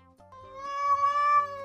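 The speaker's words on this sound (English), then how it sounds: "Is there a cat under this rug?" A single drawn-out cat meow, close and clear, rising in pitch and then falling, heard alone in a quiet indoor room.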